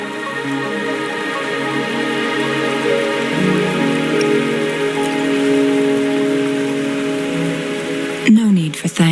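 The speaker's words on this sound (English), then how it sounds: "Are you trapped here by the rain?" Steady rain pours in the video game Wuthering Waves, a dense continuous patter layered over a soft tonal game background, with a brief sharp sound effect near the end.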